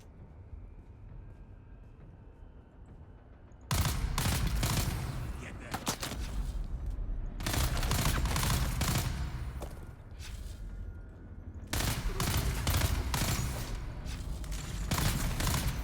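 Bursts of gunfire in the video game Dune Awakening, three dense, loud volleys of rapid shots separated by short gaps, over a low steady background hum with no talking.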